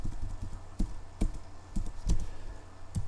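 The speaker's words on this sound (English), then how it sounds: "I'm going to begin typing the actual text here" Keys on a computer keyboard clack in an irregular run of separate taps, close and fairly crisp, with short pauses between bursts and no speech.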